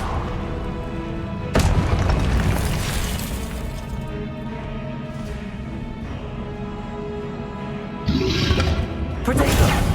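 Incendio fire spell cast in Hogwarts Legacy, loud roaring whooshes and booming bursts of flame repeating amid dense combat effects.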